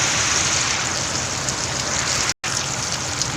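Heavy rain pouring down on a rainy morning, a dense, loud, steady wash of drops on surfaces with a brief dropout partway through.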